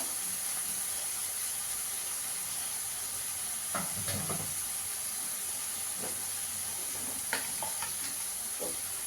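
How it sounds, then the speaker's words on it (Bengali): Turmeric, coriander and Kashmiri chili powder with salt sizzle steadily in a pan for garlic potato dum, a constant bright hiss with occasional scraping stirs over it. "মশলাটাকে একটু ভালো করে কষাতে হবে"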